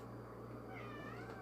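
A cat gives one drawn-out meow, close and fairly faint over a steady low background hum, with no one talking.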